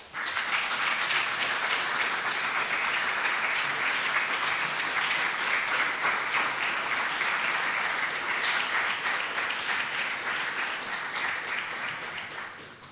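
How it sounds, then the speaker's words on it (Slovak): Steady, full applause from an audience at a formal regional council session in a hall, many hands clapping densely and evenly for over ten seconds before easing slightly at the end. "Poprosím potlesk."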